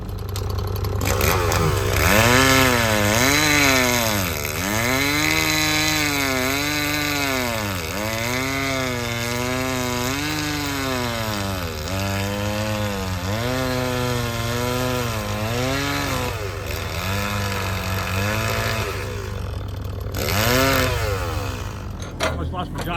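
A Stihl Pro chainsaw cuts up a pine log outdoors, loud and close, its engine rising and dipping in repeated bogging cycles as it works through the wood, then easing off near the end.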